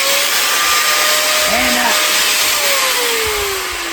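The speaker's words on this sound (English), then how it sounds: "So, just get the old grinder out. Turn the son of a pump on." An angle grinder runs loud and steady, cutting a plastic maple sap tap in half: a continuous high whine with shifting pitch that holds from start to finish.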